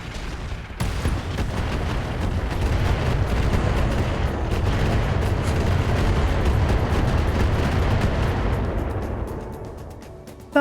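A dense Battletech rocket barrage pounds away for about ten seconds, a continuous roar of overlapping explosions and blasts that trails off toward the end.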